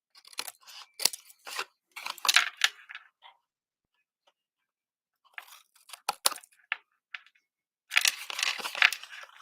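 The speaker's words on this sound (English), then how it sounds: "I'll just trim them with my scissors." Crisp snipping and crunching of scissors cutting through card, a few quick bursts with brief pauses between them and no speech.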